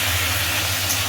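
Vegetables with onion and salt frying in a pan as vinegar is added for gravy chow mein, giving a dense, even hiss of sizzling over a low steady hum.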